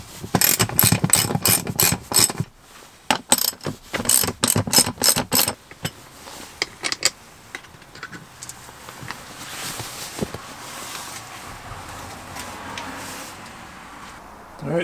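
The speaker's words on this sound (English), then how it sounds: "So we're going to pull these bolts out and we can pull the seat bases out." A ratchet works seat bolts loose inside a Toyota 4Runner, giving rapid bursts of close clicking in several rounds, followed by quieter handling clatter and faint background noise.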